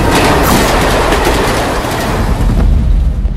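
A loud train rushes past close by, a dense continuous roar with rhythmic clattering of wheels on the rails.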